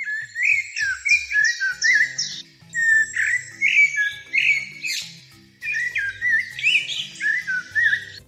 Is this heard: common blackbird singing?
yes